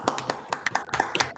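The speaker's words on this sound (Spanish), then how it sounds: "le demos un fuerte aplauso a Ricardo por esa conferencia" A lecture audience begins clapping, with scattered, uneven hand claps at close range over a short burst, not yet a full ovation.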